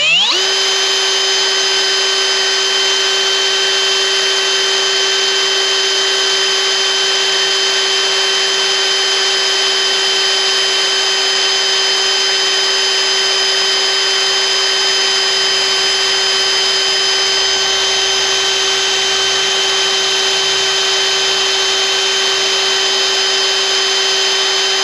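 A power drill whines at low speed as a brand new bit bores into metal, a loud, steady tonal hum with ringing harmonics that holds unbroken throughout.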